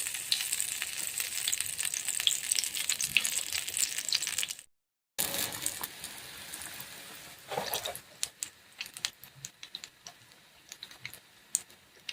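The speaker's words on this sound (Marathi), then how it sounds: "आता अशा प्रकारे तळून घ्यायची आहे अशा प्रकारे पूर्ण तळून घ्या" Cauliflower fritters coated in batter sizzle steadily as they deep-fry in hot oil, a dense bright crackle close to the microphone. The crackling breaks off briefly, then returns slightly softer with occasional taps and stirring.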